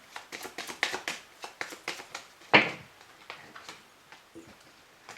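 Tarot cards shuffled by hand in a run of quick, crisp slaps and flicks with irregular rhythm, close by, one louder smack midway, then softer taps trailing off.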